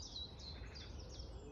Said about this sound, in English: The birds are just singing and they're so happy.